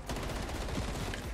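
Rapid automatic gunfire in Call of Duty Zombies, a dense, loud burst of shots in fast rhythm filling the whole moment with no talk.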